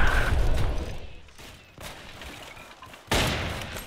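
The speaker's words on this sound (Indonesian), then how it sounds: "Wih, ada machine gun no." Gunfire in a Roblox World War II game, a loud burst at the start and another sharp blast near the end, with quieter crackling between and no clear speech.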